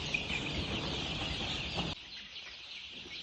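A dense, steady chatter of many chickens clucking together inside a poultry farm shed in the evening over a constant background hum, dropping quieter partway through.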